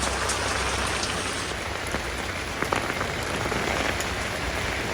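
Steady rain falls heavily on surfaces in Rishikesh, a dense, even hiss with occasional sharper drop impacts.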